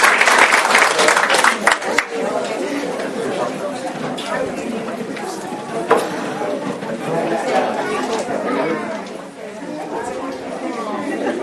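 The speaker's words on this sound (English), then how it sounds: "Give you kids one more round of applause" A burst of enthusiastic clapping from a group at a school board meeting fades after a couple of seconds into lively chatter and talking among many people.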